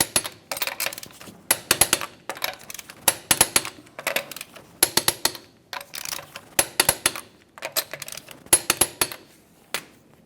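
Sharp clicking taps in irregular clusters sound close and moderately loud as a torque wrench tightens Nissan Titan front strut bolts in a crisscross order, each click cluster followed by a short pause.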